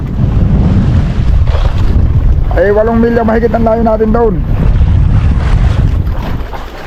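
Gusty wind buffets the microphone over the rumble of a boat at sea, while someone speaks loudly through the blustery noise.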